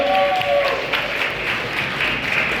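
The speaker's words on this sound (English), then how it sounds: "Clap it up." Brief burst of audience applause and some cheering at a town hall meeting, dense clapping at steady loudness for a couple of seconds.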